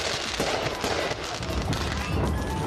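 Diwali firecrackers and fireworks in New York crackle and pop in dense, rapid bursts like a continuous fusillade, loud and busy throughout with faint voices mixed in.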